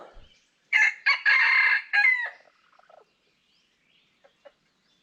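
A recorded rooster crow is played once in a forest, loud, close and clear, followed by faint scattered ticks and near silence.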